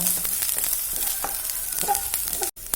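Chopped ginger and green chillies sauté in a pan: a steady, close sizzle runs throughout with light scraping and stirring noises, with no voice over it.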